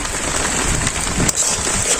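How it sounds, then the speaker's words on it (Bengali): Steady rain falls beside an outdoor village kitchen in Bangladesh, a close, even patter on surfaces with one sharp tap near the end, no talking. "পাশে বৃষ্টি হইতেছে"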